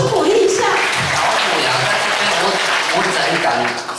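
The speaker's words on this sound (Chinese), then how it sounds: "掌声鼓励一下。" An audience at a temple hall opening ceremony applauds, a steady, dense wash of clapping from many hands lasting a few seconds, with voices mixed in.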